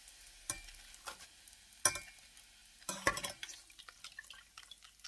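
Noodle crackers frying in hot oil while being stirred, a soft bubbling sizzle with a few sharp clinks of a utensil against the pan, fairly quiet and close.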